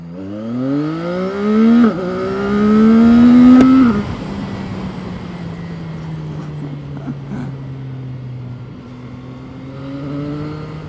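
A 675SR motorcycle on its last ride, the engine revving with rising pitch for about four seconds, then settling into a steady, loud cruising drone, close and alone.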